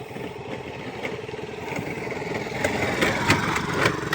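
A motorcycle engine labors uphill on a rural road in Paranas, Western Samar, a steady mid-pitched chug growing slightly louder and nearer over a few seconds.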